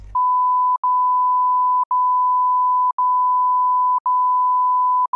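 A loud, steady censor bleep tone sounds continuously, broken by brief regular gaps about once per second, with nothing else audible.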